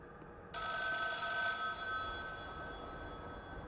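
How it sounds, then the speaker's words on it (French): An old telephone rings inside a ruined building in the horror game The Town of Light, its bright electronic trill starting abruptly after half a second and holding steady, close and clear over a low ambient hum. "Le téléphone dans le truc en ruine."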